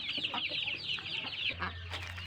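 Chicks kept in a brooder, part of a batch of 36 being raised, chirp steadily and densely at close range, with a low hum running underneath and no talking.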